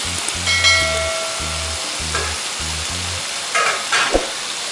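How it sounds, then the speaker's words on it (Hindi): Vegetables lightly stir-fried in a pan for café-style veg noodles, a loud steady sizzle with a rhythmic low thumping, a few metallic scrapes and a sharp knock near the end. "इसको हल्का सा फ्राई करके स्टेर फ्राई कहते हैं जिसको"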